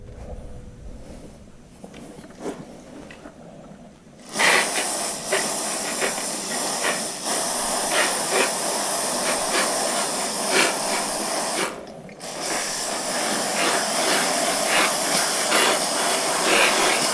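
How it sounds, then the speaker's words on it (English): A hissing spray of cleaner onto a tractor's hydraulic filter screen starts after a quiet moment and runs steadily, pausing briefly once before continuing, loud and close. "I'm gonna spray downward on it to make sure all the filings go"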